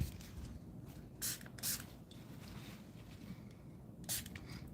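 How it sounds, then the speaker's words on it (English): Quiet room tone broken by a few short, hissy bursts of alcohol sprayed from a spray bottle, two close together near the start and another a bit later. "spray this with some alcohol."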